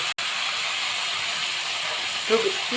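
Malabar spinach frying in a pan gives a steady, even hiss and sizzle that holds close and constant throughout, with a soft voice briefly near the end.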